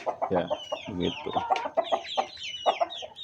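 Chickens clucking in a lightweight steel and hollow-frame coop built for 120 birds, repeated clucks and a few higher calls close by, with someone briefly speaking over them.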